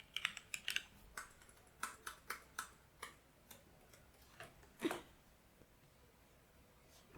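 Fingers tapping out a folder name on a computer keyboard, a quick run of crisp, close key clicks with short pauses between bursts and one louder keystroke near the end, no voices.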